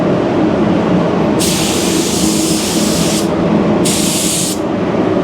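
Spray gun hissing as it lays a coat of Alpha Automotive Paint onto a car body, two steady bursts of close, loud hiss over a constant background rumble.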